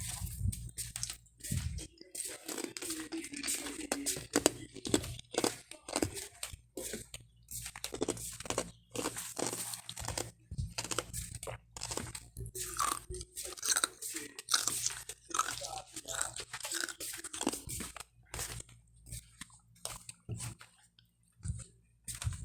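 Close, crisp crunching of ice being chewed, with a dense run of irregular bites and grinding crunches that continues steadily throughout, alone with no talk.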